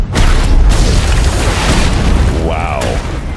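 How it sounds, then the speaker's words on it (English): Point defense cannons on a spaceship in The Expanse fire in a loud, sustained roar of booming bursts. A voice is briefly heard toward the end. "She's using the point defense cannons."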